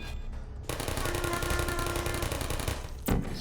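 Turrets firing in the Portal video game, a rapid, sustained machine-gun rattle that starts abruptly and runs for about two and a half seconds, close and loud, followed by a single sharp burst.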